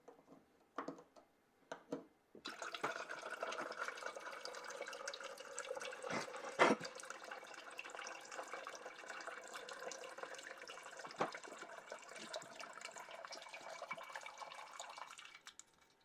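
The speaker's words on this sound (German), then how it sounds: "den kleinen grünen Stöpsel herausziehen und das Wasser komplett ablassen" Water drains steadily out of the tank of a Pulmovolta Cavallo 1000 hydrogen inhaler once its small green plug is pulled, a continuous close splashing flow after a few short handling knocks, running evenly until it tapers off at the end.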